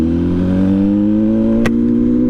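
MV Agusta Brutale 1000 RR motorcycle engine pulls with a loud, steady drone whose pitch climbs gradually, broken by a sharp click of a gear change near the end before the engine note carries on.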